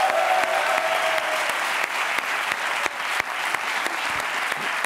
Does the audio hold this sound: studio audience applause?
yes